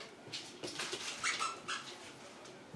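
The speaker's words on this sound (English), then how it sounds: "And that's my puppy dog." A puppy whimpers while playing with squeaky toys indoors, letting out several short, high-pitched cries and squeaks in uneven bursts, fairly soft, with no one talking.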